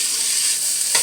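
Green peppers and onions frying in a pan for vegetarian chili, a bright continuous sizzle with a short scrape of stirring near the end.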